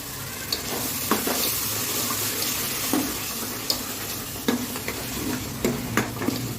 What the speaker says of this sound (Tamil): இந்த ஆயிலே ஒரு 2 நிமிஷம் வதங்கட்டும்